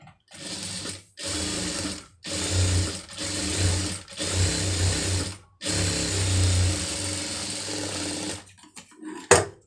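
A sewing machine stitches a pattu border onto a puff sleeve in several steady whirring runs separated by short pauses, ending with a sharp click.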